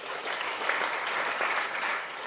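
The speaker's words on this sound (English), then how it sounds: "You clap for the bishop." Sustained applause from a church congregation at a diocesan celebration in Ankole, a steady dense wash of clapping hands with no break.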